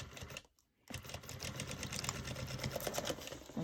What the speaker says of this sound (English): I'm going to sew a line right across here